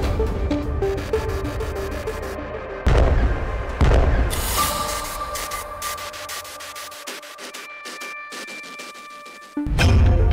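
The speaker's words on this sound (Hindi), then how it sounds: "ईरान ने लॉन्च कर दी इंटरकॉन्टिनेंटल" An Iranian intercontinental missile launch gives a loud, sustained roaring rumble broken by sudden booming blasts, heavy and powerful with no speech over it.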